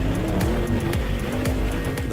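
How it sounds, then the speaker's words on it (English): A 2021 Audi RS7 Quattro under full-load acceleration across patches of ice and asphalt on a climbing hill, engine roaring with rising and falling pitch sweeps and repeated short tire squeals, loud and steady throughout. "we then drive over the entire patchwork quilt of ice and asphalt with full load acceleration"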